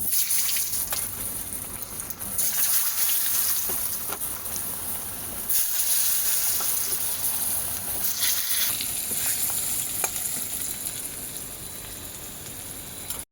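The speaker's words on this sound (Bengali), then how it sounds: "আমি তেলে একটু হলুদ দেব, দিয়ে এবার আলুগুলো ভেজে নেব।" Potatoes fry in hot oil seasoned with turmeric, a continuous loud, close sizzle with a watery hiss that swells and eases in waves, with no voices over it.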